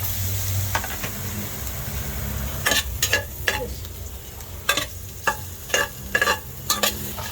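Ginger frying in a little oil in a pot for beef rib soup, a steady low sizzle broken by repeated sharp scrapes and stirring clatters of a utensil against the pan, close by and with no talking.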